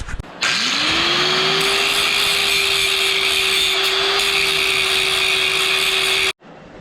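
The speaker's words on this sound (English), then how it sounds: "Let's go ahead and take some meat off with the grinder." An angle grinder cuts metal while a bench vise is installed. It spins up quickly into a loud, steady high whine that holds for about six seconds before cutting off abruptly.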